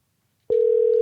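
A telephone dial tone starts abruptly after a moment of silence and holds as a loud, steady single-pitched hum while a call is being placed.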